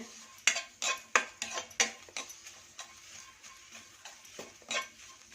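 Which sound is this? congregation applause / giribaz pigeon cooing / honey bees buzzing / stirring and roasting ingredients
stirring and roasting ingredients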